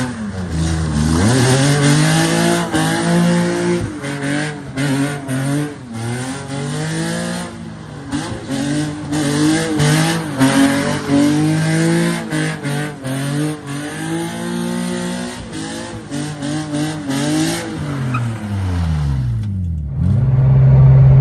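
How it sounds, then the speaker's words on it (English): A drift car pulled out as a daily driver, with a bad exhaust leak, revs hard through repeated donuts, its loud engine note swooping up and down with tire squeal over about twenty seconds, no voices. "I'm probably just gonna blow a couple donuts before we go on our way home"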